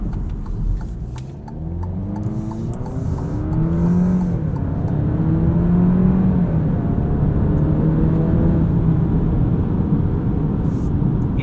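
A 2023 Alfa Romeo Giulia Estrema with an 8-speed automatic drives along, its engine droning steadily inside the cabin as the pitch rises through the gears, with continuous road rumble underneath.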